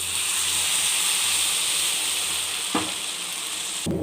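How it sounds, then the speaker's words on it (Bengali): Water hits spice paste frying in oil for a Bengali fish curry, and the pan gives off a loud, steady sizzle and hiss throughout. A couple of brief knocks from the pan come near the end. "এখন আমি এতে জল ঢেলে দেবো।"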